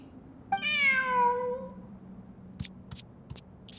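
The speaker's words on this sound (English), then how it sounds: "Who's a good kitty?" A cat in the Genshin Impact video game gives one clear, drawn-out meow up close, followed by a few faint clicks.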